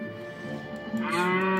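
A cartoon cow in the video game Aiden's Adventure gives one drawn-out moo that rises near the end, heard clearly over light game music.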